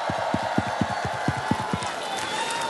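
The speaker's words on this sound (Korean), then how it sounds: "하나님께 모든 감사와 영광의 박수를 올려드리겠습니다" A church congregation applauds in praise during a Christmas lighting service, a broad wash of crowd noise over a faint, regular thumping beat.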